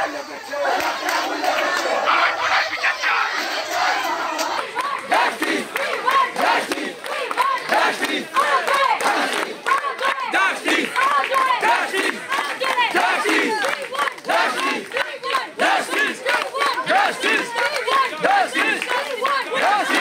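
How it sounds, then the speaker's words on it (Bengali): A large protest march crowd in West Bengal chanting slogans against the police, loud, rhythmic massed shouting close by that continues without pause, with chatter mixed into the roar. "পুলিশের বিরুদ্ধে ক্রমাগত তারা স্লোগান শাউটিং"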